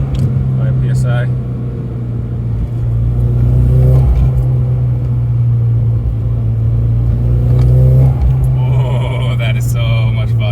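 A Nissan Silvia on its first drive with a new boosted motor, running about 5 psi of boost, accelerates from inside the cabin. The engine drones loudly and rises through the revs in pulls, with people talking over it.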